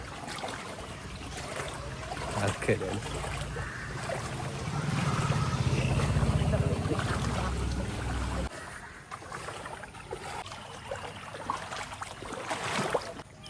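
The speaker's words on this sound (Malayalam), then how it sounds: "മെയിൻ തോട് മുഴുവൻ നിറഞ്ഞൊഴുകിയിട്ടുണ്ട്" Floodwater rushes steadily through an overflowing main canal after dam release during the monsoon, a continuous broad wash and gurgle heard close by, louder in the middle stretch and then settling into a lighter trickling flow.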